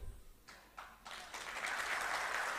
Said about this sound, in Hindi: नहीं, ताली मत बजाइए